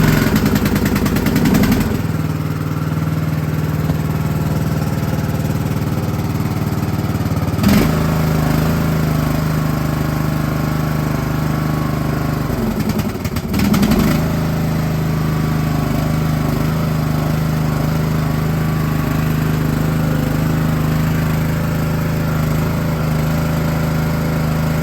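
A lawn tractor engine cranks and catches, then runs with a steady low drone, with two brief surges partway through, loud and close with no talk.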